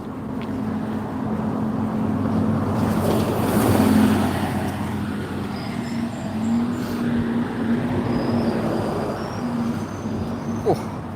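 A steady low rumble and hum fill the inside of a moving train, with a faint whine rising and falling over the constant drone. No one speaks.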